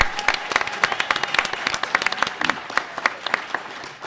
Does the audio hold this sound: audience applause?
yes